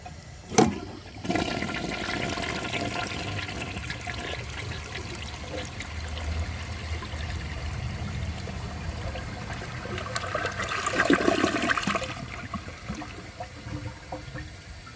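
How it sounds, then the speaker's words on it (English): A 1959 Standard Compact toilet flushes with a sharp whoosh, then its tank refills in a long, steady rushing and trickling hiss that swells again near the end, close and fairly loud with no talk. "Let's wait for the tank to fill up and see if it can take a dish towel."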